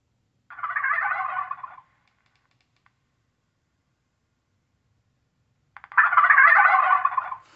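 An electronic game call (Western Rivers Mantis Pro 100) plays two loud turkey gobbles, each lasting over a second, separated by about four seconds of silence.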